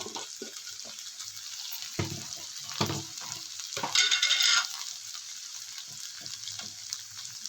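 Chili powder and turmeric being stirred into a frying pan, with scraping strokes of the spoon against the pan over a soft, steady hiss of hot oil, and a brief louder sizzle partway through.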